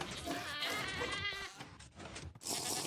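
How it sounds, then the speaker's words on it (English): A Minecraft goat gives a mild scream-like bleat inside the video game, loud and continuous with wavering harmonic cries across roughly three seconds, briefly dipping midway before a harsher burst at the end. "there's a bit of a mild goat scream along with it."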